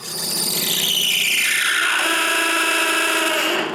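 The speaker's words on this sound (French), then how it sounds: "J'essaye de le limer, mais sans succès." A hand file rasps hard against a hardened steel chainsaw blade, a loud, close, continuous harsh scraping with a ringing metallic edge that rises in pitch and holds steady throughout.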